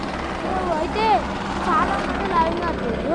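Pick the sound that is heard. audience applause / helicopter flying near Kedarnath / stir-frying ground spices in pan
helicopter flying near Kedarnath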